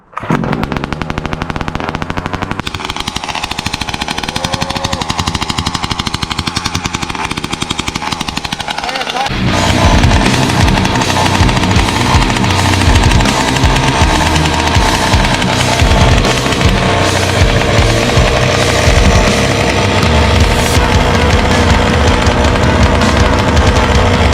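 A Rovan Max 45cc engine idles during break-in, loud and close: a buzzing, rattling exhaust note that wavers at first, then steadies into a harsh, rapid, continuous drone.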